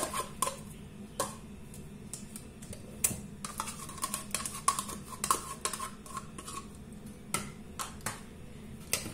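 Eggs and yogurt are beaten in a bowl, giving irregular, sharp clinks and taps of utensil against the bowl, close up, with some quicker bursts of strokes and short pauses between them.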